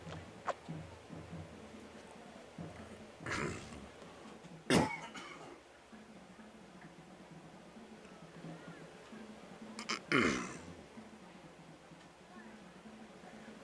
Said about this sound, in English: I was trying to quit coughing.